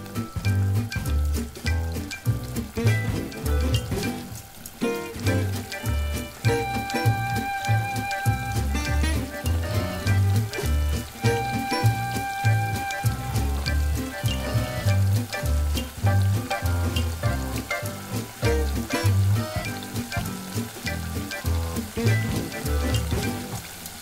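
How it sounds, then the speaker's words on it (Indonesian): Battered food frying in hot oil, a dense, continuous crackling sizzle with bubbling pops, close and steady throughout. "kita udah siap untuk menggoreng"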